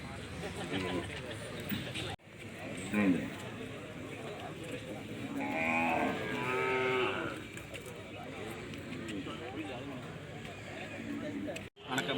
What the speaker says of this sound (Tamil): இதான் நம்ம கண்ணு கிடாரி கண்ணு